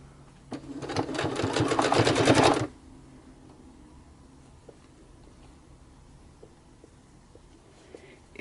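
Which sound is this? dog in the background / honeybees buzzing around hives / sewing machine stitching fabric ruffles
sewing machine stitching fabric ruffles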